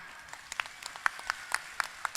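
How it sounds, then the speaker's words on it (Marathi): An audience at the Ambarnath art festival claps in sparse, scattered bursts for a member of parliament, a thin and fairly faint ovation of separate hand claps rather than a dense roar. "जोरदार टाळ्या."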